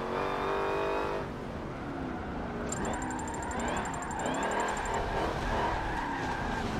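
A rental car drifts in Forza 7, its engine roaring steadily with rising and falling revs while tires skid and squeal throughout, loud and continuous with no talking.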